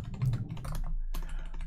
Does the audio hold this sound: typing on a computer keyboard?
yes